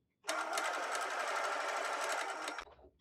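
A sewing machine stitches a collar in one steady, fast run of close, even mechanical chatter, starting abruptly and stopping after a couple of seconds, with no talking.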